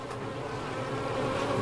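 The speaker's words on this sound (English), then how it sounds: "There's plenty of bees." Honey bees buzz around an open beehive during an inspection, a dense and steady close-up hum of many insects with nothing else heard.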